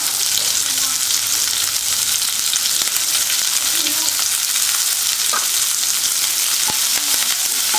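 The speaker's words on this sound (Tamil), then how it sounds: "கருவேப்பிலை போட்டு கொஞ்சம் நல்லா வதக்கிக்கோங்க வெங்காயம் வதங்கட்டும்" Onions and curry leaves fry in a pan with a loud, continuous sizzle and occasional stirring scrapes, close up with no talking.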